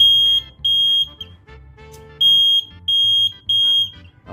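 A 12-volt flame and light sensor alarm buzzer, set off by a lit match held in front of its sensor, blares in loud repeated piercing beeps with short gaps, several bursts in a row over a low background hum.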